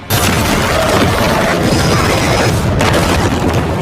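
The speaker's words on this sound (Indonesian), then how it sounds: "kemudian Lu Sheng mematahkan pedang miliknya dan membuat sebuah ledakan besar" A loud, sustained roaring blast fills the clip, dense and rumbling for several seconds before cutting off abruptly.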